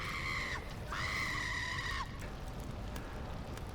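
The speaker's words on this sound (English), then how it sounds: "Screams engulfed the air" Shrill, high screams ring out in two long bursts, the second held for about a second before cutting off, loud and close over a low rumbling background.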